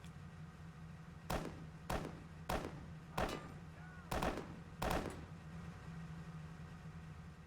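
Gunfire in the Roblox shooter BRM5: six loud, separate rifle shots spaced about half a second to a second apart, each with a brief echoing tail, over a steady low background hum and no speech.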